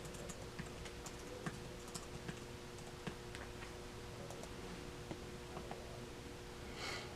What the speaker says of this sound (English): Here I'm going to search for my address simply by typing in 1500 Marilla.